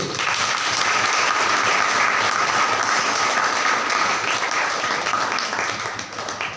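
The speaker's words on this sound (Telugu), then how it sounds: "చప్పట్లు కొట్టండి" Church congregation at a Pentecostal Sunday worship service breaking into sustained applause, a dense, loud wash of clapping from many hands that holds steady throughout and eases slightly toward the end.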